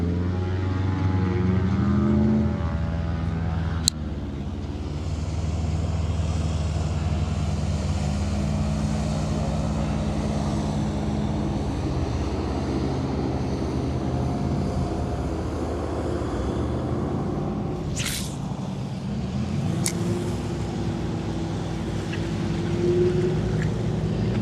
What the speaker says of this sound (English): Man, those airboats are loud, huh?